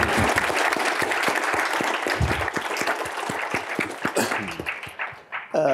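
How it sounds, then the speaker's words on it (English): An audience at a university debate event claps, with steady applause that includes distinct sharp nearby hand claps and tapers off toward the end before a voice starts to speak. "We could clap."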